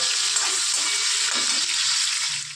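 Pieces of pointed gourd (potol) fry vigorously in hot oil for a mixed vegetable dish, giving a dense, even sizzling hiss close by that fades off at the very end.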